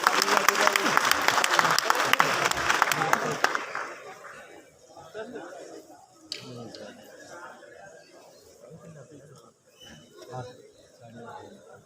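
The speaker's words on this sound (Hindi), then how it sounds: "जोरदार तालियों के साथ स्वागत कीजिए पदमजीत सहरावत सर को" Audience applause welcoming a guest onto the stage of a New Delhi auditorium program: a dense burst of clapping for about three seconds that fades out, followed by crowd murmur and nearby talking.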